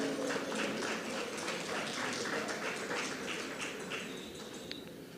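Audience applause at the Sugar Mas Awards 2024 ceremony, a steady spread of hand claps from a crowd that holds for several seconds and then gradually thins and fades.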